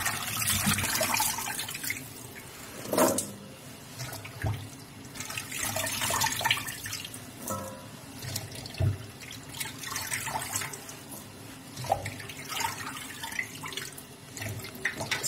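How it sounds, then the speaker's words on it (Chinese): Pots or cookware being scrubbed with alkali and hot water at a running tap, water splashing and gushing steadily with brief clatters and scraping strokes, close and fairly loud, no talk. "搁碱跟热水，就这么刷， 把这油都洗掉。"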